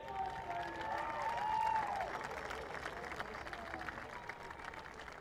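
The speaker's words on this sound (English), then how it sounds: "One or two fans in the back there, give him a big cheer as well" Crowd applause and cheering for the sidecar podium finishers at the Isle of Man TT races, a steady, fairly distant wash of clapping that lasts throughout.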